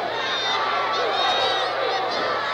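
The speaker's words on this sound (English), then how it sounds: "And listen to the crowd." A 1970s pro wrestling arena crowd roars and cheers continuously at a steady level, with a commentator talking over it.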